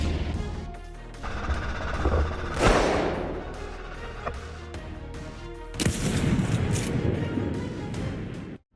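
Several sharp gunshots crack out in Texas during a wild boar hunt, some far and echoing, with a louder burst of machine-gun fire rolling into a noisy outdoor rumble.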